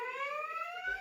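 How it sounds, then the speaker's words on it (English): A loud, steady siren tone sounds with a slight upward glide and bright harmonics, continuous for the full second. "Siren."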